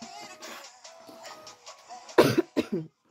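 A few close coughs in quick succession after some quiet clattering and movement.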